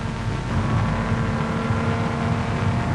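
Jaguar race car at speed down the Mulsanne Straight at Le Mans, a steady loud engine drone with broadband road and wind roar, constant and close throughout with no voices.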